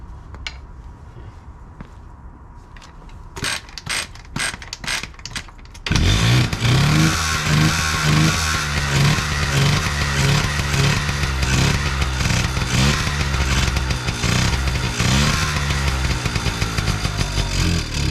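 Honda Express NC50 scooter fitted with a new aftermarket carburetor: several sharp clicks and sputters of kicking over, then the small two-stroke engine catches and runs loud and close with a buzzy, uneven idle, no talking.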